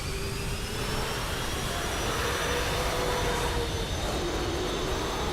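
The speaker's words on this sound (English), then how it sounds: "we should be able to hear some noises now if I just spool the engines up." Airbus A330-200 jet engines spooling up in a flight simulator game, a continuous loud whine and roar holding steady for several seconds with faint rising tones and no voices.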